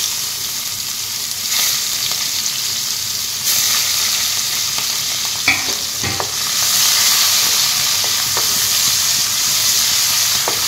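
Fish sizzling and frying in hot oil in a wok for a home-style fish curry, a steady loud hiss with occasional clinks and stirring scrapes, alone without talk.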